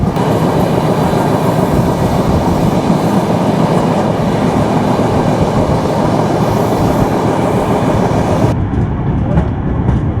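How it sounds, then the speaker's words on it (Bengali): The Rupsi Bangla Express rolls along in Bangladesh with a loud, steady rumble and clatter of wheels on track, heard alone until it cuts off sharply near the end. "আমাদের ট্রেন প্রবেশ করতেছে কাশিয়ানী জংশন রেলওয়ে স্টেশনে"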